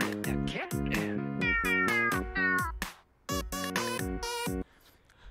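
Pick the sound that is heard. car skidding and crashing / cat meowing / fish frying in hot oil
cat meowing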